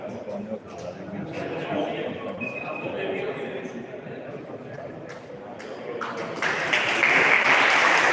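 Loud crowd applause fills the Bardolino sports hall before a Volley Veneto versus CUS Venezia volleyball match, a dense continuous clatter of clapping that swells toward the end while a commentator talks over it.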